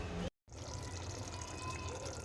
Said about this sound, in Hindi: थोड़ा सा पानी शामिल करूँगी इसमें मैं, और फिर इसको ढक के पकने के लिए चढ़ा दूँगी।